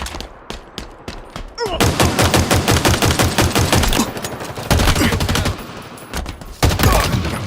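Rapid automatic gunfire from a weapon in the video game Halo Infinite during an Oddball match, loud dense bursts sustained for several seconds with brief gaps and a renewed burst near the end.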